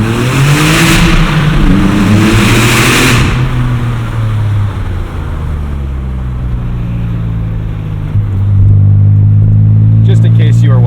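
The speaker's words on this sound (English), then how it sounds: "We're gonna get one last little tunnel before we sign off to hear this fab speed exhaust out of the big turbo." A 2004 Porsche 911 Turbo X50 with a Fabspeed exhaust roars through a tunnel, a loud, echoing engine drone that rises in pitch under acceleration and then swells into a heavy, booming rev near the end.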